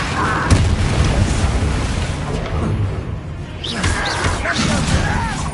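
A Bombarda blasting spell explodes in the Hogwarts Legacy video game: a loud booming crash with whooshing debris, set among dense game combat noise, with a brief second burst near the end.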